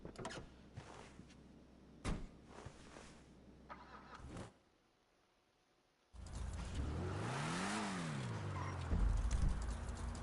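A Weevil Custom car in the video game GTA Online: a few door clunks, a short silence, then the engine starts and revs up and down in a smooth rising and falling sweep before settling into a steady loud idle.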